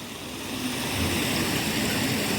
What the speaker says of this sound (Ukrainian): тут такий невеличкий водоспад. Можливо, вам чутно звук водички.